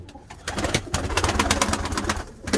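A pigeon in a garden, its soft cooing phrases repeating close by over steady background noise, with no talk.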